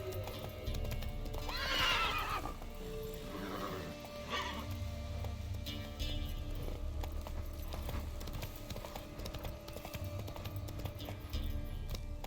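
A horse in The Witcher 3 whinnies loudly early on, then its hooves clip-clop in a steady, brisk rhythm under a low ambient bed of game sound.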